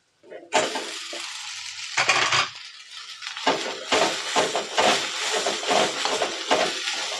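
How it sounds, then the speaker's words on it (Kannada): Rice being stirred into puliyogare gojju in a pan: repeated close, rhythmic scraping and clattering strokes of a spoon against metal over a soft sizzle, loud and continuous after a brief quiet start. "ಗೊಜ್ಜು ಹಾಕಿ ಚೆನ್ನಾಗಿ ಮಿಕ್ಸ್ ಮಾಡಿ"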